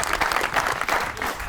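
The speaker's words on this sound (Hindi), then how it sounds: "तालियां होनी चाहिए।" Short burst of studio audience applause during a television interview show, a dense patter of clapping heard briefly at moderate level.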